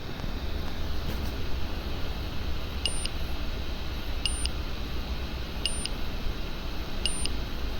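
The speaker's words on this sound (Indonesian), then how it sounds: "buzzer juga sudah mulai hidup" Four short, high electronic beeps repeat at roughly even intervals over a steady, loud background rumble of wind or engine noise.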